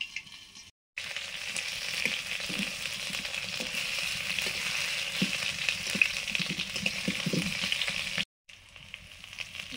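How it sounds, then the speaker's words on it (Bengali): Potatoes for aloo dum sizzle steadily in mustard oil in a pan, a continuous close frying hiss with occasional stirring clicks, nearly unbroken throughout. "আলুর দমের আলুগুলো ভেজে নিচ্ছি"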